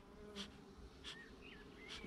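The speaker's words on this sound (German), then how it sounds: "Die Bienen, die auf den Rähmchen sitzen oder auf den Wabenoberträgern, ziehen sich in die Wabengassen zurück und fressen sich voll." Honeybees buzzing in an opened beehive just after a puff of smoke, a steady close hum of many bees with occasional individual bees flying past, heard alone.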